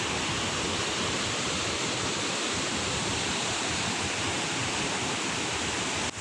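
Ditumabo Mother Falls in San Luis, Aurora roars as a steady, dense wash of falling water, close and loud with no pauses, no voices over it.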